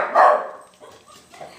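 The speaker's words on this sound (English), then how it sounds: "I apologize for my dog." A pet dog barks indoors, one loud sharp bark up close followed by a few fainter, shorter yips and whines.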